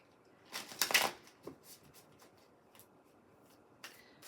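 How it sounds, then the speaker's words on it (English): A deck of oracle cards with pink edging is shuffled by hand, a close burst of riffling flutter followed by a few softer card taps and slides, with no voices. "And I want to shuffle this a few times."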